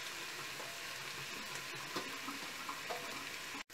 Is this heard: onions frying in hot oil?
yes